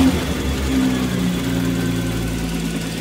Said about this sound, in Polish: No auto jest gotowe do odpalenia, także odpalamy